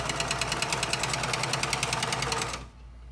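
A sewing machine stitches quilt block pieces with a fast, even clatter of needle strokes at close range, stopping abruptly near the end and leaving a quiet background.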